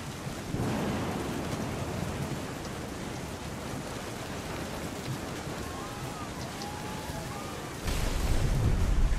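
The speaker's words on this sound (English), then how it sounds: "The thunder sounded much too close and full of angry power." Rolling thunder with steady rain in a stormy scene from the video game What Remains of Edith Finch, a continuous low rumble that swells louder near the end, with no voices.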